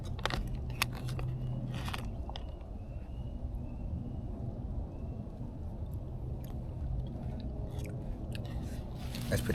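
Close, wet chewing and occasional crunchy bites of a soupy beef lasagna camp meal, eaten outdoors at a primitive campsite in Louisiana, with steady low background ambience throughout and no talking.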